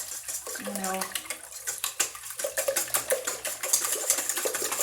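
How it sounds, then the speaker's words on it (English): Liquid drains off microwaved vegetables in a splashing, trickling pour with clinks of a dish, continuous and fairly close throughout. "You're basically going to drain off your vegetables."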